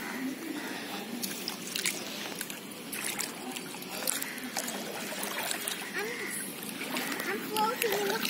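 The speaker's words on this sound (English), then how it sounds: "I'm taking a bath right now" Splashing and trickling water from bathing in a resort pool in Chennai, continuous and close, with people talking over the churning water throughout.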